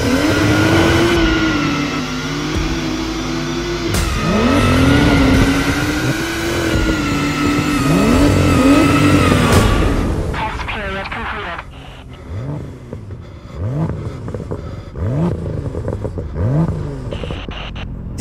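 A BMW M2 fitted with an Akrapovic exhaust revs hard and accelerates, the loud engine note climbing and falling in pitch through gear changes. Music plays over the first half, then the revving continues with quieter passes.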